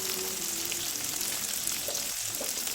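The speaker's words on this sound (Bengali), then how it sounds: "এবার লাল করে ভেজে নেব একেবারে উল্টে পাল্টে।" Garlic and three green chillies fry in a pan, turned over and over until browned; a steady, moderate sizzle holds throughout with a few faint stirring sounds.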